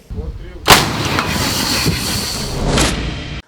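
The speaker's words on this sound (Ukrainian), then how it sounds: "Артилеристи гатять по загарбнику щодня" A sudden loud boom of artillery fire hits, followed by a long rumbling, hissing echo that trails off after a few seconds.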